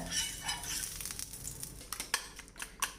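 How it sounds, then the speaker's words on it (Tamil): Butter on a dosa tawa gives a soft, faint sizzle, joined by intermittent scraping and clinking taps that grow sharper toward the end. "கொஞ்சம் பட்டர் நான் போட்டுக்கிட்டேன் தோசை தவாவில்"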